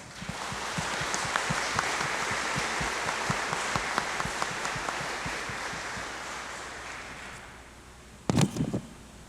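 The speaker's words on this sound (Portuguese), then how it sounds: "vamos nos acolher com uma bonita salva de palmas" At a Catholic Mass in Advent, the congregation gives a warm welcoming round of clapping that holds steady for several seconds, then thins and fades out, ending in a brief close knock or bump.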